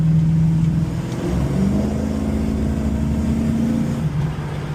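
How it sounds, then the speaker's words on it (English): A deep, rumbling V8 exhaust from a Plymouth Cuda 340 stroker with a 3-inch X-pipe and Dynamax mufflers drones steadily from inside the moving car, the engine note rising and falling slightly as it cruises. "3-inch X-pipe exhaust from TTI with Dynamax mufflers, so she sounds pretty good"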